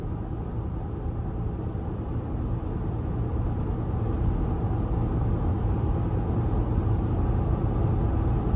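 Maxxis RAZR AT all-terrain tires rolling on the road while driving, heard from inside the vehicle as a steady, even low rumble and hiss that holds constant throughout with no voices.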